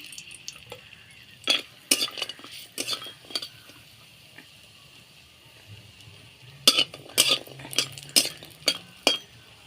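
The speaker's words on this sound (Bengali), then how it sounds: "তেলটা গরম হয়ে গেছে বড়িটা দিয়ে দিচ্ছি" Lentil dumplings (bori) fry in hot mustard oil in a wok. A soft sizzle runs underneath while clusters of sharp metallic clinks and scrapes from stirring come in two busy bursts, close to the listener.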